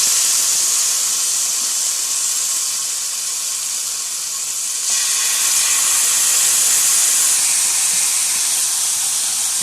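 Malai boti pieces sizzle in a hot, oiled grill pan with a steady, bright hiss close up. It rises slightly midway.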